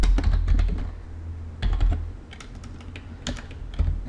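Quick bursts of clicking keystrokes on a computer keyboard, typed in short clusters with brief pauses between them.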